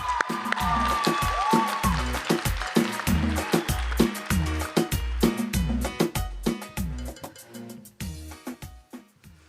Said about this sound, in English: Applaud the poet. And keep that applause going.